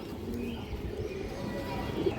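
A female pigeon at a pigeon farm coos in low, soft murmurs close by, with a voice faintly mixed in at times.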